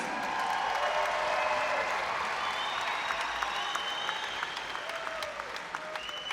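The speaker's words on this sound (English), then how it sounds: "Could we please have a round of applause for these two warriors?" An arena crowd applauds two boxers after a women's super bantamweight world title fight, broad continuous clapping with some crowd noise, a few whistles rising through it, tapering slightly toward the end.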